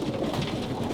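A young roller pigeon, about three months old, gives soft cooing in a loft, a low muffled murmur blending with the surrounding birds, brief and close.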